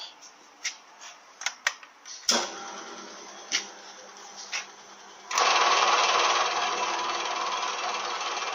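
A cast iron Powerglide torque converter spins on a lathe on a bearing running center, first with irregular knocks and taps, then a sudden jump into a loud, steady whirring drone as the speed rises.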